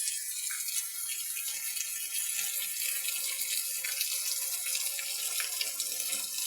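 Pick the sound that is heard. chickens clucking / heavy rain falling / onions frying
heavy rain falling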